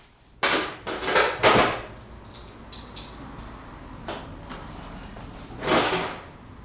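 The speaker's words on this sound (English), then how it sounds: "So let me get this fender off and out of here" A metal car fender panel is pulled off a tube chassis, making several loud clattering, scraping bursts of sheet metal with a few sharper knocks in between. The handling is close, with no talk.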